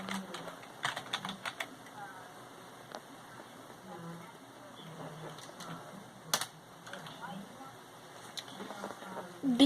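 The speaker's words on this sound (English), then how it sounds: "So I'm typing in your name." Fingers tap out a name on a computer keyboard in bursts of quick, crisp key clicks with short pauses between, heard up close while a person talks.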